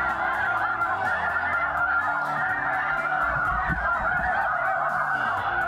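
A large flock of snow geese honks continuously, a dense, loud chorus of overlapping calls filling the air with no talk.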